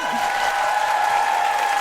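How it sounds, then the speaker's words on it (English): Theatre crowd applauding at a comedy tour show in Edinburgh, a broad continuous wash of clapping and cheering with a steady tone running through it, loud and unbroken. "a big, huge round of applause for Saoirse Monica Jackson!"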